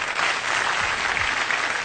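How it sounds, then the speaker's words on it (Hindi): A burst of steady clapping from a crowd, dense and even, lasting a couple of seconds with no talk. "तालियां।"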